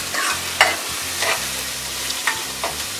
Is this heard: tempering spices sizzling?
yes